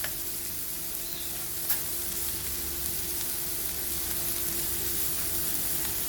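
Chopped onion with salt sautéing in a pan, a soft steady sizzle close by with a faint tick or two, unbroken and without voices.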